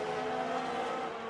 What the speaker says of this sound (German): Das Auto hat sich gedreht